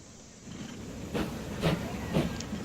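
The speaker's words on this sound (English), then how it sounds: "as soon as we take this off pause, the train will run" Train running in the railway building game Transport Fever, a steady rumbling hiss with three evenly spaced rhythmic swells like wheels passing rail joints, moderately loud with no talking.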